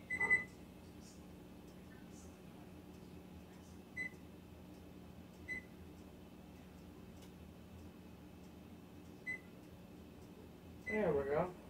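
Kitchen oven timer being set while pork loin chops bake, a few short, faint button beeps spaced apart over a quiet hum, ending in a louder burst of activity.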